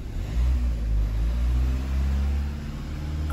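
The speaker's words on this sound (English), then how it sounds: "I'm going to rev the car." A car engine with a turbo pressure sensor fault revs steadily, a loud low rumbling drone that holds near and constant throughout.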